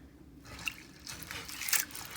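Water sloshes and drips over pinto beans being rinsed in a pot, soft irregular splashes and trickles that swell slightly toward the end, fairly quiet and close.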